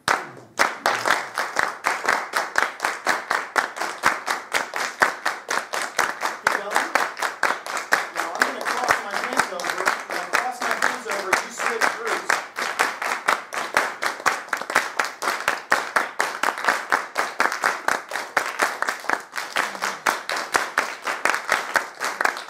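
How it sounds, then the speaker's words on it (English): A group of people clap a steady, even beat together, the sharp claps repeating at a regular tempo for a long stretch with little else heard. "Group one is going to clap a steady beat."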